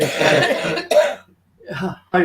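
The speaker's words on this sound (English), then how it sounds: "So you're coughing." A few short, harsh coughs close by, two or three bursts with brief pauses between them, with no talking.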